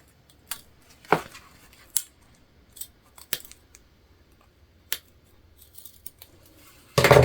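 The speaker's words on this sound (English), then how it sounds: "I'm just going to cut off the extra zipper tape here" Scissors snip through zipper tape during a sewing project, producing several sharp, separate cuts with quiet gaps between them, ending in a louder rustle.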